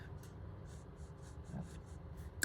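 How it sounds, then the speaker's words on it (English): Extra fine nib of a Jinhao 10 fountain pen scratching softly across paper in a series of short, rhythmic strokes, faint and close, with no voices. "See if it'll start back up again. Smooth Rider. I believe this is an extra fine nib."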